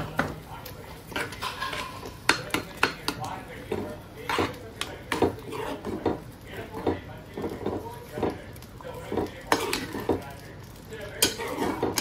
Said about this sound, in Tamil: இப்போ வந்து கட்டி இல்லாமல் கிண்டியாச்சு